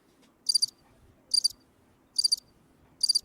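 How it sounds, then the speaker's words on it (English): Crickets chirp in four evenly spaced, crisp bursts, each a rapid trill of a few pulses, standing out clearly over a quiet low background. "Those are crickets."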